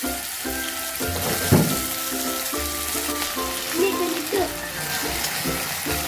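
Washed potatoes are tipped into onions frying in a pan, bringing a steady sizzle with a short clattering burst as they land, while a tonal music bed plays underneath.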